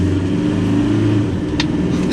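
Maxus T60 pickup truck engine pulling steadily under acceleration on a straight road, a continuous mid-low drone that stays level, with a brief higher burst near the end.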